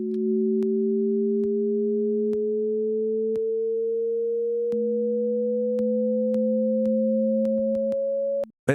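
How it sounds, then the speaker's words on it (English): Two steady sine tones play together, one holding level while the other glides slowly upward as they drift out of phase, continuous and clean with faint periodic clicks, no voices. "as I shift the phase of these two tones, so they become more and more out of phase"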